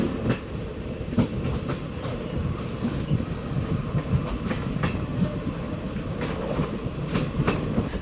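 Train pulling away from Biknur station at night, heading toward Kachiguda: steady, loud rumble of wheels and car body, with rhythmic clickety-clack over rail joints and occasional metallic clanks throughout.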